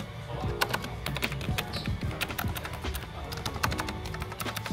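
Clacky, rapid keystrokes on a Keychron mechanical keyboard with a typewriter-like character, close and steady for several seconds, with a faint background hum.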